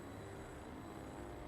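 Trains in the railway strategy game Worldwide Rush give off a steady, continuous rumble of rolling cars with faint squeal, quiet and unbroken throughout with no talking.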